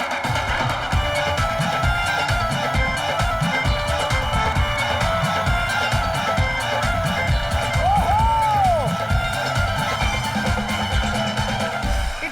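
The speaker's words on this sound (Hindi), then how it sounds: "इच्छा और रॉली के जोरदार तालियां।" A studio audience at Comedy Nights With Kapil bursts into loud, sustained applause and cheering. The dense clapping carries evenly throughout, with music playing underneath.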